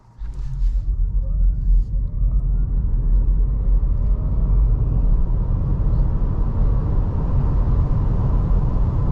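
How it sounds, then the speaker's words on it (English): An MG4 SE Long Range electric car launches hard from rest, a steady loud low rumble of road and tyre noise building and holding for about nine seconds, with a faint rising whine over it. "let's launch the MG4 SE Long Range"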